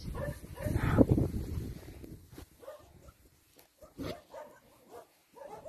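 A small puppy whimpers and yips in short bursts, loudest early on, followed by quieter scattered yelps and a few soft Polish voices nearby.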